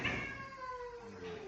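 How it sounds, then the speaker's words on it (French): An unhappy cat at the vet lets out a single drawn-out, wavering meow that slides downward in pitch, close and fairly loud with no talk over it. "Ouh, il est pas content le chat."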